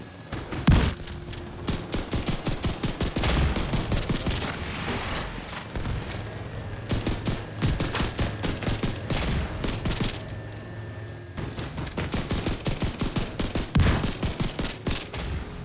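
Sustained bursts of video game gunfire from The Division 2, rapid fusillade shots in dense rhythmic volleys with brief pauses and occasional heavier booms, loud and close throughout.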